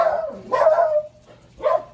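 Nearby, a dog gives two or three loud, sharp barks separated by a short pause.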